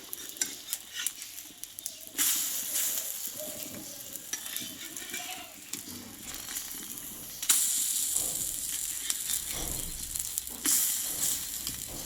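Flour-dough tiffin snack pieces sizzle and hiss as they fry in a pan, a steady crackling frying sound with bursts of stirring and louder spitting as pieces are turned, close and without talk.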